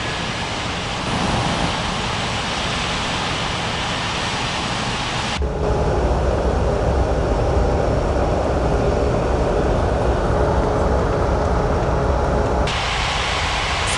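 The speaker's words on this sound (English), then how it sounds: "Lufthansa 51903, cleared for takeoff runway 32 right" An airliner powering up for takeoff in an air traffic control game, a steady loud broadband engine roar that thickens and deepens midway, then eases back near the end, with no voices.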